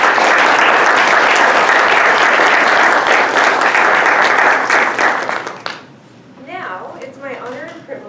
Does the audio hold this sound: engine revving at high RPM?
no